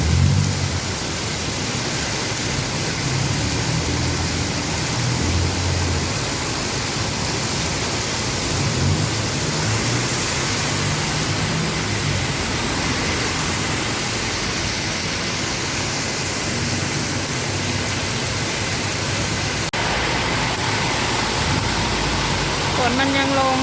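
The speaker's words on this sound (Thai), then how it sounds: "ฝนมันยังลงอยู่นะทุกคน" Heavy rain pours down steadily in Bangkok on flooded roads, a dense continuous hiss that holds at an even level throughout.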